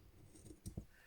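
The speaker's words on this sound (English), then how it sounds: "These scissors are not the best." Scissors that cut poorly snip through shirt fabric near a seam, giving two or three quiet, close crunching snips over faint background noise.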